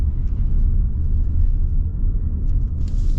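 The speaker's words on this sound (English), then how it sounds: "It's just this nice low rumble. Sounds like a real diesel." Deep, steady idle rumble of a 2025 Ram 3500 Limited dually diesel truck's engine, heard close and continuous with no talking.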